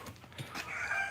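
A chicken on a rare fruit farm gives a short, close, rising call in hot weather, one brief squawking cluck that stretches into a strained note.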